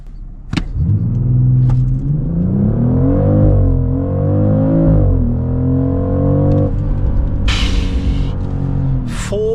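A 400 hp BMW X3 M50 G45 on winter tires in snowy conditions accelerating hard from 0 to 100 km/h, its engine roaring loudly and climbing in pitch with brief dips at gear changes, close and continuous.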